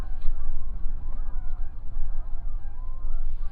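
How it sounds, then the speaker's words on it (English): A flock of geese honks and hollers continuously around a frozen lake, many overlapping calls at moderate distance mixed with other waterfowl and a low rumble underneath. "I can hear the geese hollering."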